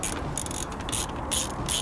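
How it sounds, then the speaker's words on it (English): A hand ratchet clicks in quick bursts of pawl ticks, spaced by short pauses, as it loosens the brake caliper bolts on a Triumph Spitfire, the sound close and alone. "if we just get on it with a ratchet"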